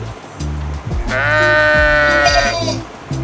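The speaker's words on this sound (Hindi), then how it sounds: "बकरी है ये तो" A goat bleats in one long, wavering cry lasting over a second, loud and close, set against low background noise and a faint murmur of voices.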